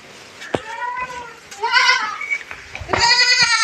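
Several goats bleating loudly nearby on a goat farm, their calls overlapping and repeating in quick succession.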